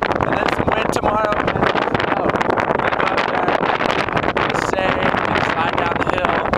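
Strong wind buffets the microphone on the slopes of Mount Adams on a clear day, a loud, constant roar from start to finish with no letup.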